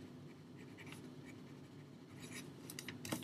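A black pen writes a signature on a sheet of blank paper, a faint continuous scratching with short strokes and a small tap near the end, close and quiet with no voices.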